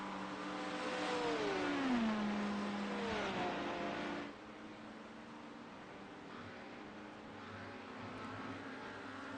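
GT3 race cars at Watkins Glen, running through the bus stop toward the carousel, engines revving and downshifting as a car sweeps past, then fading to a distant drone.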